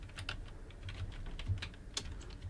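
Keys clatter on a computer keyboard as a folder name is typed during a web development project setup, a short run of close, light, irregular clicks with no voice.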